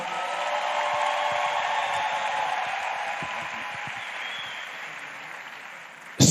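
An audience claps steadily at a skills graduation ceremony in Imo State, a sustained wash of applause at moderate level that fades slightly before a sudden louder burst at the end.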